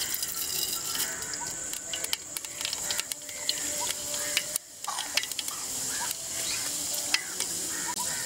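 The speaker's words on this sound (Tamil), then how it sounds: "எண்ணெய் நல்லா சூடாயிட்டு வெந்தயத்தை போட்டுக்கலாம்." Fenugreek seeds sizzling and crackling in hot oil in a pan while cooking outdoors, a steady close hiss with scattered pops and stirring scrapes throughout.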